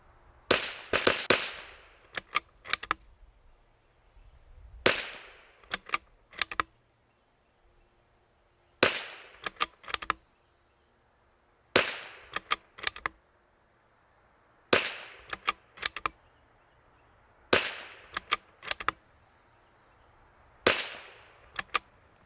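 Shots from an L3I Stinger .22LR rifle fired during function testing at an outdoor range: sharp, fairly distant cracks in small clusters spaced a few seconds apart, over a steady insect-like buzz in the background.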